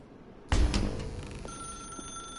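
A telephone rings in the video game The Stanley Parable, starting abruptly with a loud ring that decays into a lingering electronic tone.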